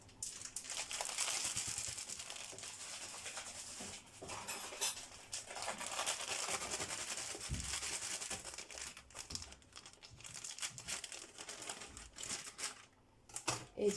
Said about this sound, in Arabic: انا عندي كيس اهو كيلو، هفضيه